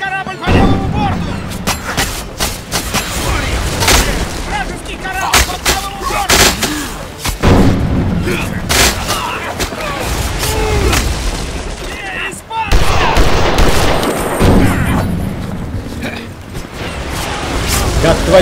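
Repeated booming cannon shots in the game Captain Blood during a naval battle, sharp blasts scattered among mechanical clatter and battle noise, with someone talking over much of it.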